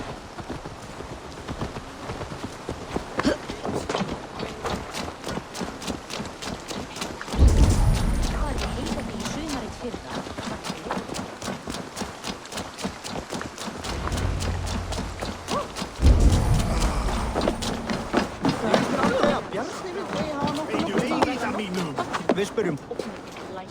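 Video game horse hooves clip-clop in a fast, steady rhythm throughout, with music and voices talking over them.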